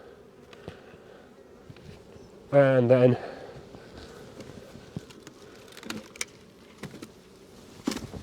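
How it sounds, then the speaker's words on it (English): Bees buzz around an opened beehive during a first spring inspection, a low insect drone under quiet talk, with a louder close buzzing burst near the middle. "just get rid of any bees that are in there"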